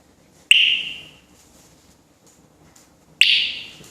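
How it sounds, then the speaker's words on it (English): A 110 dB anti-theft alarm sounds two sharp, piercing beeps about three seconds apart, each bright tone starting suddenly and fading over half a second, with near silence between them. "Double beep means it's successful."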